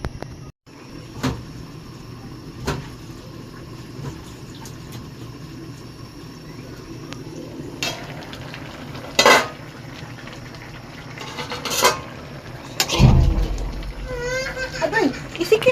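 Clattering metal knocks as a lid is set onto a cooking pot of bulanglang, with a few sharp clanks over a low simmering background and a louder rattle near the end; someone speaks briefly.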